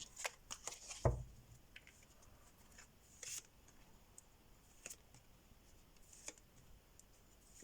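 Tarot cards are shuffled and flicked in a quiet room, a scatter of soft riffles and crisp snaps at irregular intervals, close and faint.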